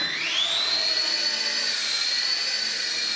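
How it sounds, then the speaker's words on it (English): Electric motors of a small RC helicopter spinning up for takeoff: a close, high whine that rises in pitch over the first half second, then holds as a steady, strong drone with no talking. "I'm going to start the motors. There we go. I'm going to use the takeoff button."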